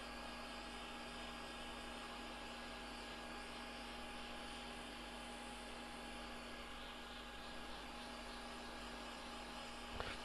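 A hot air rework station with a large nozzle blows on an LGA CPU socket, making a steady, faint broadband hiss with a constant hum underneath that holds without a break.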